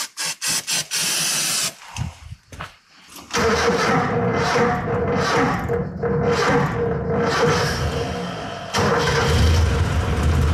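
A Mitsubishi Pajero engine cranks on its starter in several short bursts, then catches and settles into a loud, rough idle close by.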